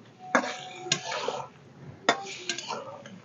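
Palm fritters are stirred through sugar syrup in a pot, producing sharp clinks of a utensil against the metal pot at irregular intervals, followed by softer scraping and sloshing, close and moderately loud.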